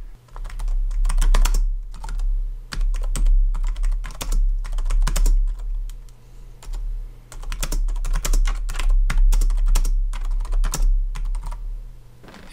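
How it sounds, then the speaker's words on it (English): Typing on an LED backlit USB computer keyboard made for Final Cut Pro X, with bursts of rapid, close key clicks and short pauses between them, over a low steady hum. "Here's what it sounds like when you start typing."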